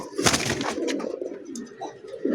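White racer pigeons at a pigeon seller's loft coo in soft, repeated throaty phrases, close and moderately loud, with some rustling and background noise around them.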